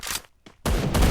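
Gunfire in the battle royale game Free Fire: a loud burst of shots, a brief near-silent gap with one faint shot, then a heavy sustained volley of rapid fire.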